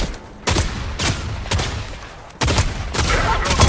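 Gunshots in several loud, close bursts of rapid fire, separated by brief pauses and repeating across a few seconds.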